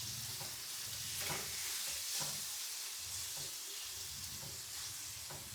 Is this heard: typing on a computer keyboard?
no